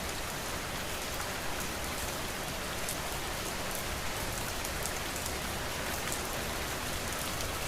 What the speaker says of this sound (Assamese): বৰষুণ দিলেও নেৰা নেপেৰাকৈ বৰষুণ দিয়ে থাকে